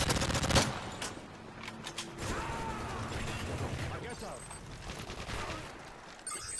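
A sentry gun fires in the video game Modern Warfare 3: a sharp near burst opens, then a fainter rattling stream of automatic shots continues beneath voices in the game's audio.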